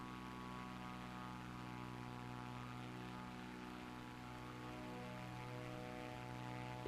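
Propeller aircraft engine droning in flight in Microsoft Flight Simulator 2024 on Xbox Series X, a steady, even hum with layered tonal harmonics holding unchanged throughout, heard alone at low volume.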